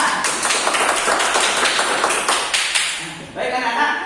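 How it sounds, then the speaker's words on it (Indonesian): Schoolchildren in an Indonesian classroom clap their hands together in a quick, dense burst that lasts several seconds, fairly loud and close, then tapers off into a quieter room tone near the end. "Tepuk tangan untuk semuanya"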